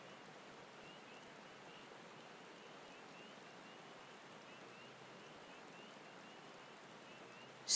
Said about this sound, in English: It should just be a light little drizzle.